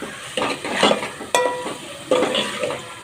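Green chillies and onions fry in a pan while a spoon stirs them in several distinct scraping strokes, with clinks against the pan over a soft, close sizzle.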